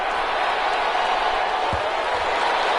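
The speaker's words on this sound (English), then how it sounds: "How about some applause for the defense there?" A stadium crowd applauds and roars for the defense in an American football video game, a steady, loud wash of noise that holds evenly from start to finish.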